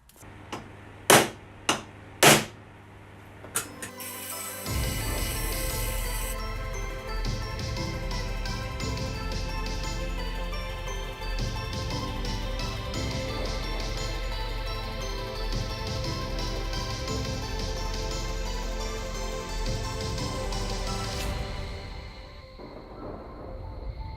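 A hole punch cuts through a Porsche 924 S Turbo engine mount, opening with a few sharp metallic knocks followed by a long, steady loud grinding drone that fades out near the end.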